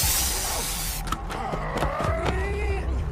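Bear spray hisses hard from a canister in a film scene, a steady forceful spray for about a second followed by clicks and scuffling movement.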